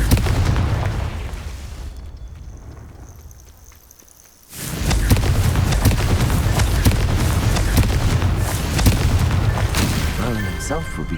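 A Confringo fire spell goes off in Hogwarts Legacy. After a quiet lull, a sudden loud blast breaks out and is followed by sustained heavy, crackling noise.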